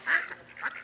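Ducks give two short nasal quacks close by, one at the start and another just after the midpoint, with no talking over them.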